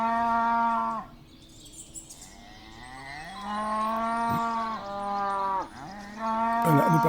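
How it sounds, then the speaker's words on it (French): A cow in a VR game lets out several drawn-out moos, loud and close, separated by short pauses, with faint chirping in the background. "Là, il y a une vache."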